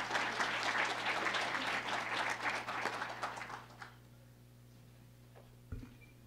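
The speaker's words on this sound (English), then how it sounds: "So please join me with a round of applause for Rita." A crowd at an art and design college applauds an introduced guest, steady clapping for about four seconds that fades away, leaving a low hum and a single thump.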